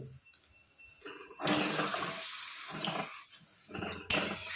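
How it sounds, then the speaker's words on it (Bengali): Water pours into a pan of simmering fish curry with hilsa-like bhola fish, beans and eggplant, making a steady close splashing and sizzling rush for a few seconds, ending in a sharp clank. "দিয়ে দেবো পরিমাণ মতো জল।"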